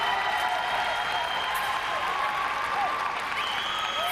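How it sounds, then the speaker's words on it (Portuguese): Brazilian crowd at a wushu championship arena cheering and applauding outside, a steady dense roar of clapping and shouts with whistle-like calls rising over it, at moderate distance, for the whole stretch. "You can hear the Brazilian crowd going nuts outside."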